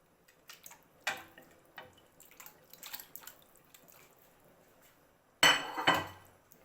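Bone-in mixed chicken pieces, 500 grams, drop into a pan of water for stock, giving scattered small clinks and drips and then a loud splashing clatter near the end, close and free of talk.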